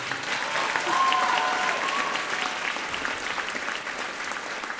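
At a middle school popular music concert, the audience claps for the student soloists. The applause is full and steady throughout, swelling slightly early on, with faint voices mixed into the clatter.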